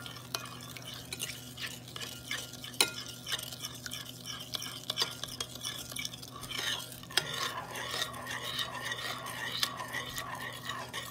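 Ginger garlic sauce is stirred in a pan, soft scraping and sticky clicking strokes at a quiet level, with a faint sizzle rising in the second half.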